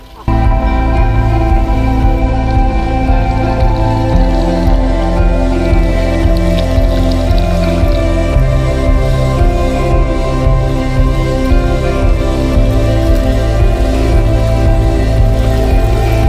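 A cold mountain stream swollen with high water flows from its source, a loud continuous rushing and gurgling close by, steady throughout.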